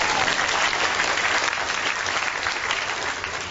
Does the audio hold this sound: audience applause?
yes